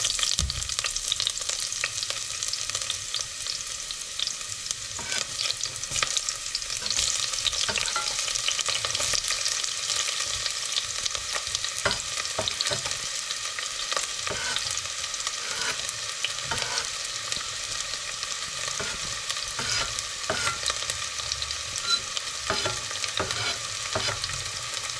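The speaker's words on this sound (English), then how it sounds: "the oil is ready in the pan. So it's time to throw in some onions" Onions frying in hot oil in a pan, a steady loud sizzle with occasional stirring scrapes throughout, no voices.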